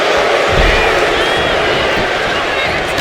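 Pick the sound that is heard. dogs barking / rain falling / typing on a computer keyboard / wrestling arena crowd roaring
wrestling arena crowd roaring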